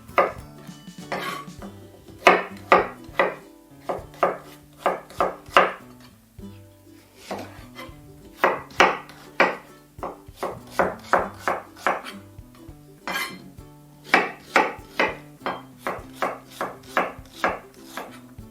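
Two small onions diced into cubes with a knife on a board give a run of sharp, close chops in irregular bursts, with short pauses between runs.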